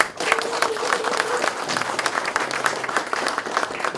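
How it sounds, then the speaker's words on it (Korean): An audience claps steadily, a dense patter of many hands at moderate volume, with a brief voice at the start. "여기서 박수 한번 보내주셔야 돼요"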